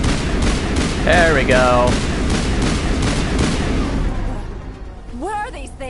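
Sustained gunfire and combat noise in Mass Effect, a dense rattle of shots that thins toward the end, with voices speaking over it briefly.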